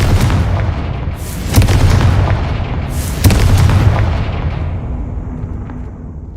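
Confringo fire spell blasts in the Hogwarts Legacy video game: two loud booming explosions about two seconds apart, each a sharp crack with a rumbling tail that fades into a long decaying roar.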